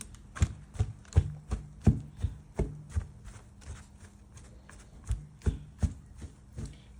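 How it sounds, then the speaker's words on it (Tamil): A thick rich cake mixture is worked with a spoon in a bowl, giving a steady series of close, dull thuds and scrapes about twice a second. "எல்லாத்தையும் கிண்டிட்டு காட்டுறோம்"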